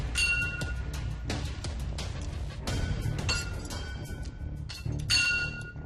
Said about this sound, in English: these were swing chains hitting against the metal poles